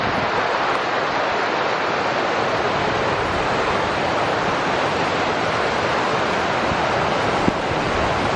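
A small creek in the North Absaroka wilderness rushes steadily in April, a continuous broadband wash of running water with some wind noise, close and even throughout with no voices.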